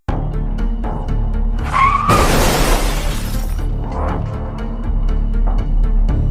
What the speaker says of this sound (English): They kept pushing until they caused a spectacular and totally avoidable rollover.